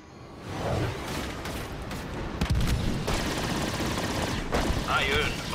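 Sustained video-game gunfire in a sci-fi space combat game, a dense fusillade of continuous shots and whooshes running loud throughout, with someone talking over it.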